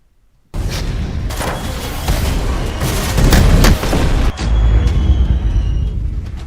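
Bomb blasts and explosions roar loudly and continuously, with heavy booming rumbles and repeated sharp bursts layered together for about six seconds after a sudden start.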